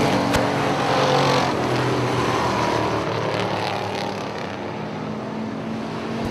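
Pro4 race trucks roar around the oval at Punta Gorda Speedway, a dense, steady engine drone that swells slightly near the start, then eases, with no voices.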